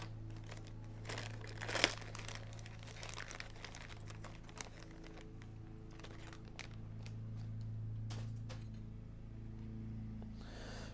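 A thin plastic bag crinkling as the body of a Revell Shelby GT500 or Mustang Boss 302 model kit is pulled out, soft rustles and crackles over a low steady hum, close and quiet.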